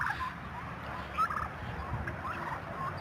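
A turkey gobbles faintly out on grass where it pecks and feeds, short warbling calls coming now and then over a low, steady outdoor background, with no voices.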